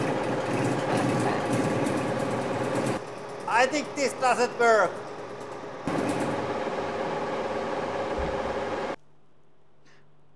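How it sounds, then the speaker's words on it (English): Small drills whir steadily for a few seconds, stop while a person speaks, then run again with a steady buzzing drone before cutting to near silence. "We're going to have really small drills."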